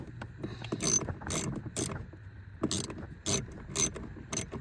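A ratchet clicks away on the bolts holding a car's blower motor, in several short bursts of rapid ratcheting separated by pauses, close and fairly quiet.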